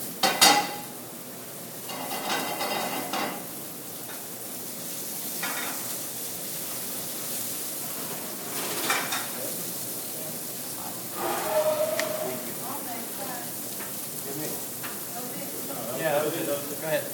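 Mushrooms browning in fat in a pan give a soft, steady sizzle, joined by occasional clinks of utensils against the pan while people talk over it.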